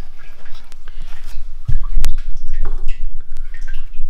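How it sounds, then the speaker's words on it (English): Used cooking oil trickling through a screen into a biodiesel processor, a steady close drip-and-gurgle with a brief louder splash of thicker sludge midway. "the last of it will drain through the screen"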